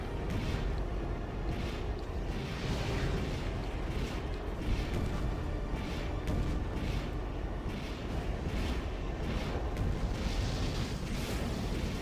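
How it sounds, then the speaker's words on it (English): Cannon fire and explosions at a firing range in the mech game Armored Core 4, a continuous rumbling barrage of booms and blasts at steady loudness throughout, without speech. "Keep an eye out for cannon fire."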